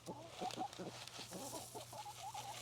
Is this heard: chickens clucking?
yes